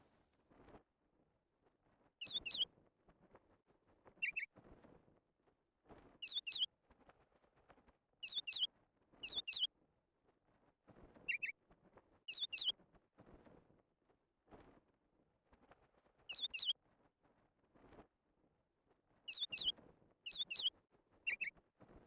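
Game birds chirp in a remix RPG adventure, with short bright tweets scattered in irregular clusters over faint wind-like noise, fairly quiet and alone.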